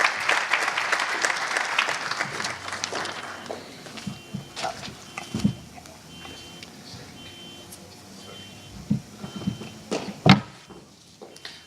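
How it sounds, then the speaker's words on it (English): At an energy conference, the audience gives a burst of applause to welcome a speaker to the stage. The clapping fades after about three seconds, leaving sporadic knocks and thumps in a quieter hall. "Please give a round of applause for Mr. Mohammed as I welcome him to the stage."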